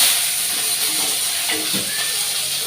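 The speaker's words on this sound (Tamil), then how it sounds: "எண்ணெய் நல்லா சூடாயிடுச்சு கடுகு சேர்த்துக்கிறேன்" Mustard seeds hit well-heated oil and sizzle with a loud, continuous hissing crackle, close up, with a few faint pops and clinks underneath.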